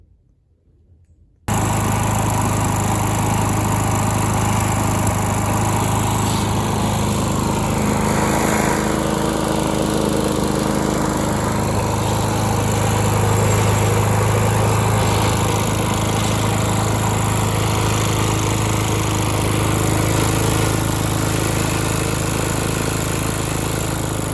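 A lawn mower fitted with a replacement HiPA carburetor fires up after a brief quiet moment and keeps running steadily, a loud, close engine drone with a constant buzzing hum that holds for over twenty seconds with no talking.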